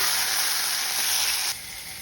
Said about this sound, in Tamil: வெங்காயத்தை சேர்த்து வதக்கிக்கலாம். தக்காளியை சேர்த்துக்கலாம்.